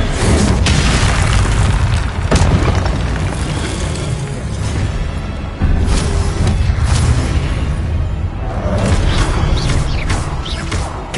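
Confringo blasting spell explosions in Hogwarts Legacy: a loud, continuous run of heavy booms and crashing bursts, with sharp new blasts hitting around two, five and a half, and ten seconds and deep rumbling carrying between them.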